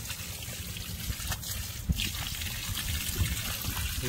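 Water trickles and splashes steadily onto soil while an avocado plant is watered, a continuous close wash of liquid with a small splash near the middle.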